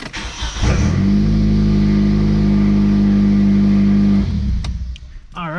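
A 2002 Hyundai Elantra engine cranks briefly on a new starter, catches and idles steadily and loud for about three seconds, then shuts off, followed by a few faint clicks and a short voice.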